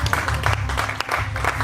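A church congregation applauds together, with quick, close hand claps in a fairly even rhythm running through the moment.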